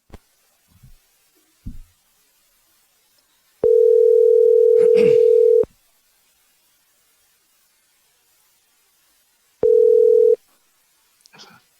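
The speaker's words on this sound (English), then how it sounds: "So let's get Rex on the phone." Two steady telephone ringback tones sound on a podcast call to a guest, each a loud sustained hum of about two seconds separated by silence, with small clicks around them.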